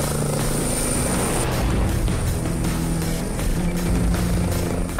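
An air ambulance helicopter close by, rotor thumping and turbine whining steadily and loudly as it lifts off to hover taxi, with no voices.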